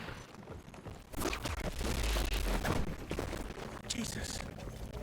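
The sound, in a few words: rifle gunfire in the video game Evil West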